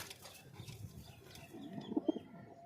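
A male racing pigeon coos softly, a few low, throaty coos rising near the end, close but quiet against a faint room background.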